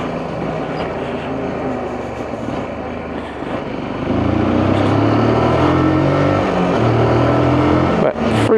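A Lexmoto LXS or LXR motorcycle on a final road test ride. The engine drones steadily, then rises in pitch and load as it works up through the gearbox, with a brief dip near the end and no talking.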